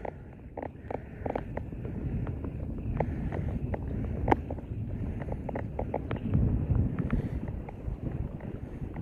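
Steady northeast monsoon wind buffets the microphone in a low rumble while fishing at sea, with light clicks and knocks from a small boat nearby; no talking.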